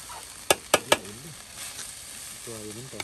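Village-style fried rice (nasi goreng kampung) frying in a kitchen in Kuala Lesat, with a steady close sizzle, three sharp clacks near the start and faint voices in the background.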